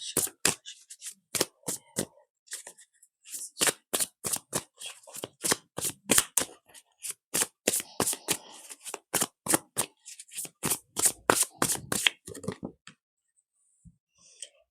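Tarot cards shuffled by hand, a long run of crisp riffling bursts in quick rhythm, close and clear, pausing briefly before trailing off near the end.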